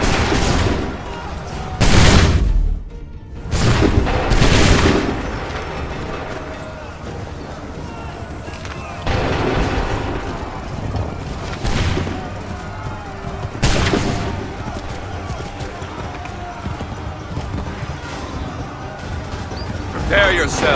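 Musket volleys crack out in Assassin's Creed III Remastered, with loud ragged bursts of gunfire in waves amid battle noise and shouted commands.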